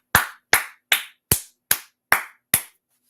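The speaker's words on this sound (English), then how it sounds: "Let's clap it up." Seven sharp, separate hand claps ring out at a steady pace in a quiet room, each ending crisply before the next.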